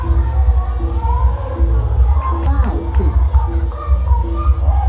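A crowd of women cheers at a sepak takraw semifinal held at a temple fair, steady loud shouting and chanting blended with a commentator talking over it throughout.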